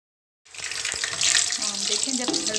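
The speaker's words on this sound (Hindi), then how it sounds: "इसके बाद हमने इस पर डाल लेना है खुश्क धनिया, वो भी हल्का सा ऑयल में फ्राई कर देना है हमने।" Cumin seeds and dry coriander frying in hot oil in a pan for a tomato onion karahi: a sudden loud, steady sizzling hiss that starts abruptly and continues throughout.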